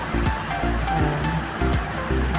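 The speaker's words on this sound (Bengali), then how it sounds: "প্রথমে চালটা ধুয়ে এক ঘন্টা ভিজিয়ে রাখি তাহলে ভাতটা ভালো হবে" Rice is rinsed by hand in water in a home kitchen, with close, rhythmic sloshing and splashing that comes in repeated swishes, and no one speaks.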